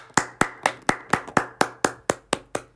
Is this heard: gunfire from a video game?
no